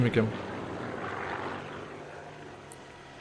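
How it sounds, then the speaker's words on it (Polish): Propeller aircraft from the Second World War shooter Sniper Elite 3 drones overhead in the game, a broad steady roar that swells and then slowly fades, with a brief voice at the start. "Samolot leci"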